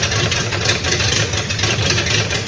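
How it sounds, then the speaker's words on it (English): A 1971 Series 1 Datsun 240Z runs at a steady idle while warming up, fed by a simplified fuel pump setup after more than twenty years off the road. A continuous close engine drone with no voices over it. "Engine is warming up."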